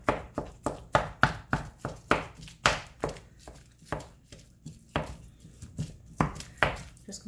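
Ground meat for a shepherd's or cottage pie is broken up in a pan with a utensil, giving a brisk run of sharp, regular knocks and scrapes, close and fairly loud, with little sizzle underneath.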